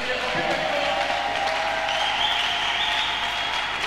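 Congregation at a prayer marathon led by a pastor cheering and applauding loudly, a dense, continuous wash of clapping and shouting voices filling the space without pause.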